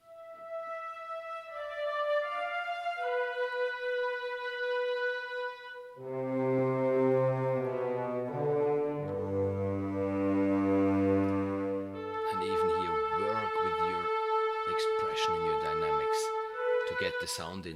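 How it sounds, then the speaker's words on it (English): Orchestral woodwinds from the Spitfire Audio Albion One sample library play a long, smooth legato melody of sustained notes that shift in pitch and register, full and continuous throughout with no talking. "The melody line is played by the woods long, and yes, here obviously having the legato patches in Albion One"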